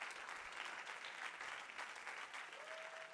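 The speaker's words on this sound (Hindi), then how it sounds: "जोरदार तालियां यार।" Loud, dense audience applause from a talent show crowd greeting a fire act on India's Got Talent, a steady wash of clapping that holds evenly throughout, with no voices above it.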